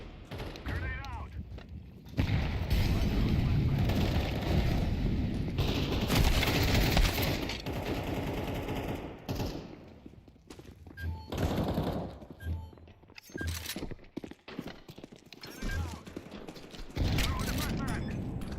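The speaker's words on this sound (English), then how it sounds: "Throwing fire. Throwing smoke. Grenade out." Grenades and gunfire in the video game Counter-Strike 2, with dense bursts of shots and blasts coming in waves and short pauses between them, under players calling out to each other.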